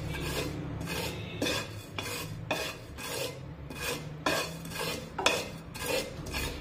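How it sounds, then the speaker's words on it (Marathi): Spoon scraping and stirring sesame seeds roasting in a pan over a low flame, a rhythmic series of close, dry scratchy strokes repeating about once a second with no talk. "एकसारखे हे तीळ असे हलवून घ्यायचे"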